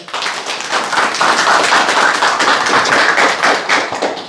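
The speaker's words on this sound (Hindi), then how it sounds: "जोरदार तालियां भाई" Loud, close clapping from a room of people at a sales orientation session, sharp dense hand claps sustained evenly for several seconds with no talking over them.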